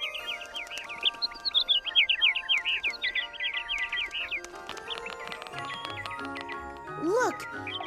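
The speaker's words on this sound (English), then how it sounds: "listen to them chirpy, chirpy, chirpy" Cartoon birds at a pinecone bird feeder in the animated show Higglytown Heroes chirp in quick, bright bursts of repeated tweets, followed by tinkly musical notes and a brief voice near the end.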